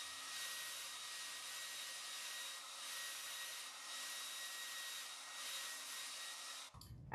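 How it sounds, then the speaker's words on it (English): A hair dryer blowing steadily to dry paint on a craft gazing ball, a continuous airy whir with slight wavering, cutting off abruptly near the end. "I'm gonna try to just blow dry this a little bit and get a little bit dry before I put it on the tape holder"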